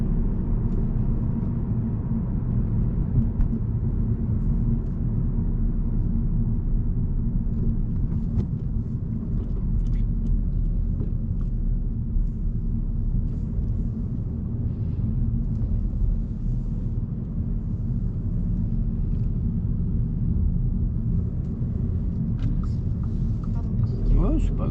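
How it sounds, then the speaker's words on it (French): Car interior with a steady low engine rumble as the driver shifts into fourth gear and accelerates again during a driving lesson, the drone continuous and close, with people talking over it. "on met la 4, on relâche. Et maintenant, on réaccélère."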